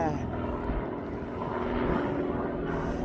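An aircraft departing East Midlands Airport drones as a steady, fairly distant engine rumble, with people talking over it throughout.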